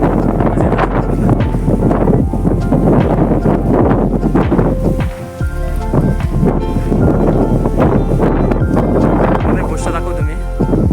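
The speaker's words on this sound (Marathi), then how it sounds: "वारं बघा किती आहे." Strong wind on the hilltop of Peb fort in the morning buffets the microphone in steady, rumbling gusts while someone talks throughout.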